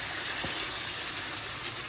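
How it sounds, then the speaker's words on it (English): Water poured steadily into a pan of sautéed chicken thighs with parsley, giving a continuous close gushing, splashing rush at even loudness, with no talk over it. "Now to this, I'm going to add some water."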